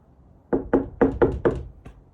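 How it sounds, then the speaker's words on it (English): Five knocks on a door in a steady, evenly spaced run, fairly close and clear against a quiet room, with no talking over them. "I turned it on because she came and knocked"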